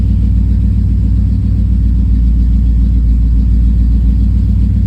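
A car engine idles steadily after an ACES Killshot EFI fuel injection install, a continuous low rumble with a faint rhythmic pulse, close and alone without speech.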